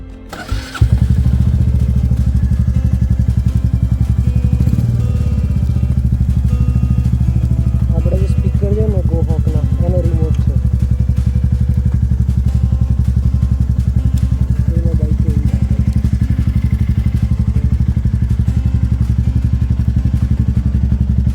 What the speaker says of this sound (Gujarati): હવે તો કુલ સ્ટાર્ટ કરીએ આપણે બાઇકને.